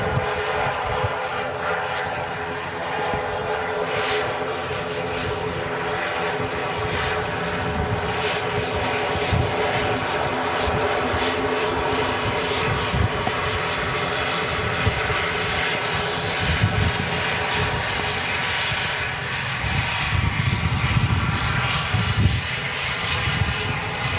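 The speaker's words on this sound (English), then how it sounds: "can see a couple of the planes kind of getting blown around a little bit on final approach there" Aircraft on final approach at Manchester Airport on a windy New Year's Eve make a continuous broad engine roar that holds steady and fairly loud for over twenty seconds, heard from a distance with no talk.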